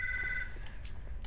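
A telephone rings in a video game scene, a steady electronic tone holding for about half a second before cutting off, followed by faint scattered clicks over low background rumble.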